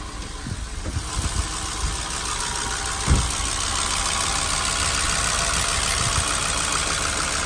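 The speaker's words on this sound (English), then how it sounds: "That horrible sounds are the cam followers, or lifted tick, as we all in other countries call it." Chevrolet Venture engine idles with a persistent lifter tick from worn cam followers, a steady mechanical clatter over a droning hum, with a couple of brief knocks early on.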